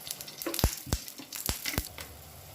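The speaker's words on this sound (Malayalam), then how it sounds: "ഇതിലേക്ക് നമുക്ക് ഓയിൽ ചേർത്ത് കൊടുക്കാം." Oil hitting a hot pan salted for frying eggs, giving short crackling sizzle bursts in quick succession, close and moderately loud, with no talking.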